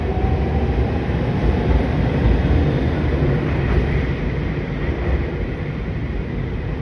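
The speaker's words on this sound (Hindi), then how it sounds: "मेरे सामने बंद हुई है ट्रेन यहाँ।" A train standing at a station platform in Amami, Japan, with a loud, steady, continuous rumble and drone that stays at an even level throughout, with no voices.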